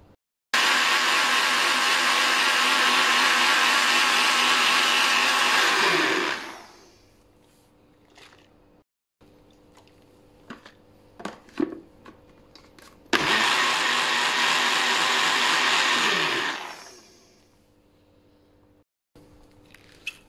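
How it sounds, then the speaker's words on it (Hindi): An electric blender mixes a coffee drink in two long, loud bursts of about six seconds each, with a quiet pause and faint clinks between them. "ये अब इसको आपने दोबारा एक दफ़ा ब्लेंड कर लेना है, मिक्स कर लेना है अच्छी तरह से"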